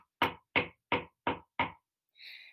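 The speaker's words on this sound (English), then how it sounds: "you could use your fist to apply a strong force to knock loudly" Five loud, evenly spaced knocks of a fist on a door ring out close and sharp, followed by a brief soft hiss.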